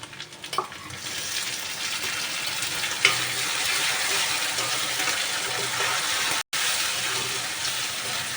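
Tomatoes frying in a pan with ginger-garlic paste for an egg curry, a continuous close sizzle with occasional stirring scrapes and a brief dropout near the end.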